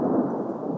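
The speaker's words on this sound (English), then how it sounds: "that was lightning, the storm is real" Thunder from a lightning storm rolls in a loud, low rumble, a continuous deep roar with the hiss of rain mixed in, and no voices present.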